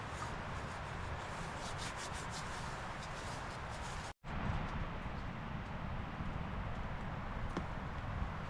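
Beeswax and mineral oil wax is rubbed steadily into wood at a winter camp in Scotland: a continuous close, soft scrubbing friction that breaks off briefly midway before carrying on at the same pace.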